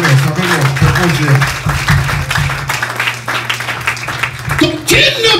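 A church congregation at United Church of God in Pompano Beach claps and acclaims the Lord, with rhythmic applause and crowd noise under a loud preacher's voice.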